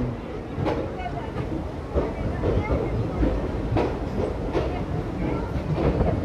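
Coimbatore Madurai Intercity Express rumbling into Dindigul Junction, a steady broadband roar of the moving train with periodic clicks and clatter from the wheels, close and continuous, with voices faintly underneath.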